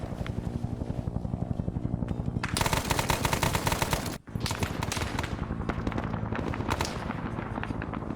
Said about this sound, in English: this guy immediately under fire